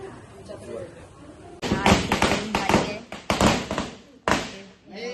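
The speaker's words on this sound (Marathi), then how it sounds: "फटाके फोडतात" Firecrackers burst with a few sharp, loud bangs that cut through nearby chatter and crowd noise at a Ganesh Chaturthi gathering.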